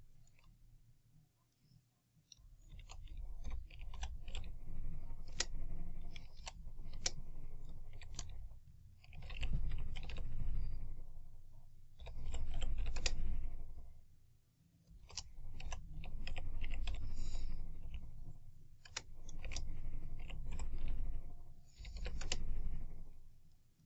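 Rapid clicking of a computer keyboard as a podcast title is typed, bursts of keystrokes separated by brief pauses, close and clear with no speech.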